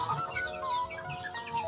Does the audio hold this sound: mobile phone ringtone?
no